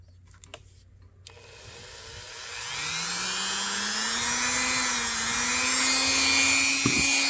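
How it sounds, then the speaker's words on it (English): A wire wheel grinds the undersides of a vintage jackknife, starting after a few faint knocks and swelling into a steady high whir with a rising motor hum that holds to the end. "Let's just hit the undersides here a little bit"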